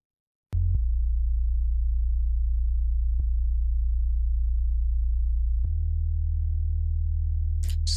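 A compressed bass line in an Afrobeat mix: a steady, deep sustained bass tone that holds nearly level for several seconds, with a couple of brief clicks where the note changes and a bright transient at the end.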